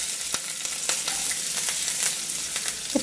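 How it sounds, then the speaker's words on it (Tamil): Mustard seeds, urad dal, curry leaves and broken dried chilies sizzle and crackle steadily in hot oil for a tomato pachadi, with small pops throughout, close up and with no talking. "இப்போ தக்காளி பச்சடிக்கு கொஞ்சமாக கடுகு, உளுந்தம் பருப்பு, கருவேப்பிலை, காஞ்ச மிளகாய் கிள்ளி போட்டுக்கோங்க."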